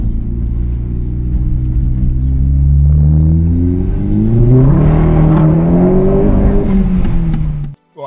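A Seat Leon Cupra MK2 with a short shifter and new fuel filter accelerating on a test drive, its engine note climbing steadily through the revs, then easing and cutting off abruptly at the end.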